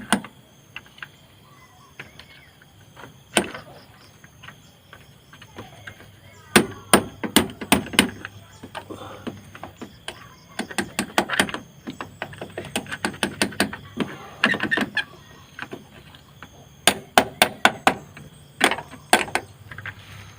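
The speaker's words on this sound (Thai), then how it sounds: "ตอกลงไปให้แน่นนะครับท่านผู้ชม" Sharp metallic hammer taps ring out in irregular bursts of rapid strikes, with quiet pauses between the groups, as a battery terminal is hammered onto a 2009 Toyota Vios battery.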